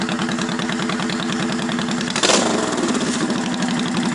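A carbureted motorcycle engine runs steadily after being started, its close, loud, even idle pulsing throughout, with a brief burst of extra noise partway through before the rumble settles back.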